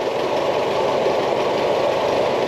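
Old tractor engine with a seized-engine history, running under a little throttle: a steady, rough, continuous mechanical drone with knocking texture that holds at an even level throughout, with no talking.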